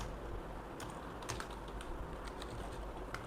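Light clicks of typing on a computer keyboard, a scattered handful of quiet keystrokes over a low background hum, with no voices.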